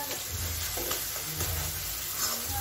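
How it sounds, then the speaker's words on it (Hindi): Spice masala for a paneer curry sizzles steadily in a pan, a continuous close hiss with soft low stirring thumps recurring every second or so. "तो इधर मसाला भून रहा है, आप लोग देख सकते हैं।"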